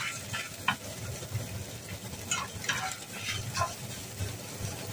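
Minced pork browning in a pan for a Chinese tofu dish, a soft steady sizzle with occasional stirring scrapes and light clicks of the utensil against the pan.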